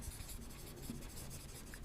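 Pen or chalk writes out an English word during a language lesson, a continuous faint scratching and rubbing heard up close against a steady hiss, with no talking.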